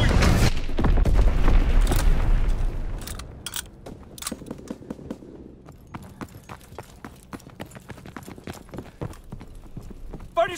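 Incoming bomb strike in the Call of Duty WWII video game: a heavy, rumbling explosion at the start fades into a long series of sharp, quick impacts and distant cracks.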